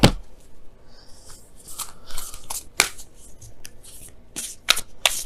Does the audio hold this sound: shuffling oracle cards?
yes